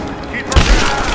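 Gunfire from a cinematic in Rise of the Tomb Raider: a sudden loud boom-like shot bursts in mid-clip over a tense rumbling backdrop, with voices shouting nearby.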